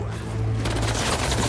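Gunfire in the video game Marvel Spider-Man 2, a dense burst of shots that starts quietly and swells into continuous loud firing over a low rumble, with no talk.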